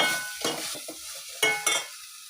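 Onion-garlic masala frying in a pan for misal pav, a soft sizzle broken by a few sharp spoon scrapes and stirring strokes over about two seconds, no talk.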